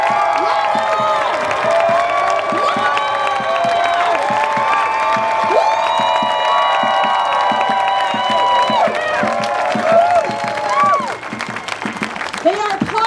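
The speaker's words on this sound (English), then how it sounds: "I want y'all to scream." Rally crowd screaming, cheering and clapping at a Let My People Go rally, a loud sustained wash of many overlapping voices with shrill whoops and yells over steady applause, thinning toward the end.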